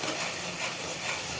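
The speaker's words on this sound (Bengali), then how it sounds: "তো এখানে আমি তেল দিয়েছি পরিমাণ মতো, পেঁয়াজ বাটা, আদা রসুন বাটা, এলাচি, দারচিনি, গোলমরিচ যত যা আছে সব কিছু দিয়ে ভালো মতন কষাই নিচ্ছি" Onion paste, ginger-garlic paste, cardamom, cinnamon and peppercorns sautéing in oil in a pan, a steady close hiss and sizzle that carries on evenly without a break.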